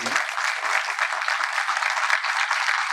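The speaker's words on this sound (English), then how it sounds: "So big round of applause for Sandeep." Steady applause from a crowd, dense clapping that holds at an even, fairly loud level throughout.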